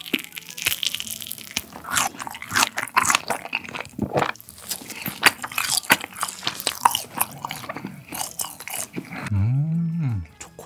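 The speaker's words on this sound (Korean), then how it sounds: "청주 딸기가 들어간 개성주악 먹어볼게요" Someone eats gaeseong juak, a Korean fried rice cake with strawberry, close to the microphone: repeated crisp bites and wet crunchy chewing, with a short hum of voice near the end.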